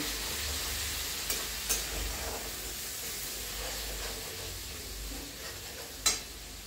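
Pav bhaji masala stir-fried in oil over a high flame until the oil separates. It gives a soft, continuous sizzle and hiss with a few sharp spatula clicks, fairly quiet and without voices.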